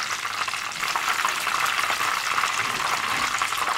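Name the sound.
battered eggplant frying in oil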